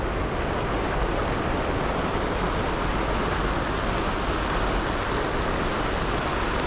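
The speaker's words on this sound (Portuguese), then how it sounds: "O choque da temperatura com a chuva começou a cair granizo." Hail mixed with rain pours down at an outdoor municipal market in Cusco, a dense, constant hiss and patter with no let-up across the whole stretch.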